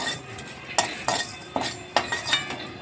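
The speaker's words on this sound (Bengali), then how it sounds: "একটু নেড়ে নেব।" Whole coriander seeds and spices are stirred in a pan over a low gas flame, giving several distinct scraping clinks spaced about half a second apart, with a faint sizzle beneath.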